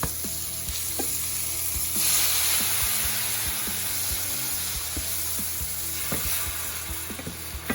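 Spices sizzle steadily in a hot pan for a Chettinad-style asparagus fry while a utensil scrapes and taps the pan at irregular intervals, close by.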